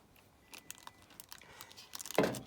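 Foil cash bags crinkle and rustle up close as they are opened, soft scattered crackles building to a louder crumpling burst as the contents are emptied out.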